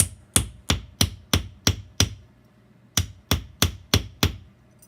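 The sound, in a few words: hammering copper leaf metal on anvil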